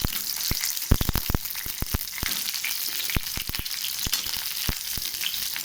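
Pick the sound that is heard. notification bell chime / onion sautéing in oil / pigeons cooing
onion sautéing in oil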